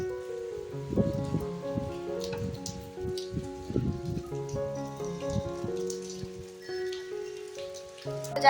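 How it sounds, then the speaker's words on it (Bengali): Heavy rain falls steadily nearby with a constant patter of drops, joined by scattered low thumps and tonal hum in the background. "দেখায় আপনাদের কত জোরে বৃষ্টি পড়ছে"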